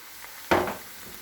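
Ginger garlic paste hits hot oil in a pan with a sudden sizzling burst that fades within a fraction of a second, with no voices present.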